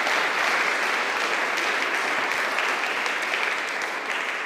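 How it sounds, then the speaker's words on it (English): Sustained applause from a large audience at a talk on justice for war crimes, dense steady clapping filling the room throughout without a break. "Maybe please give a warm applause to Eva."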